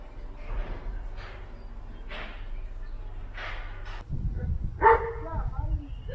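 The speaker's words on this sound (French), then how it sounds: "il y a un chien juste derrière qui travaille" A search and rescue dog working through rubble at a German fire brigade rope-rescue training site, giving a few short barks and snorts nearby while someone talks quietly.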